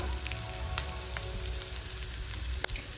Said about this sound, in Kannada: ಒಂದು ಕಡೆ ಫ್ರೈ ಮಾಡ್ಕೊಂಡು ಇನ್ನೊಂದು ಕಡೆ ಫ್ರೈ ಮಾಡ್ತಾ ಇದ್ದೀನಿ